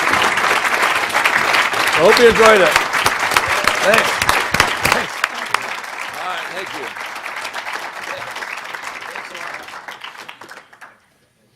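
An audience at a Concordia College business school talk gives sustained applause for the speaker. The dense clapping runs steadily for about ten seconds before dying away, while someone speaks briefly over it.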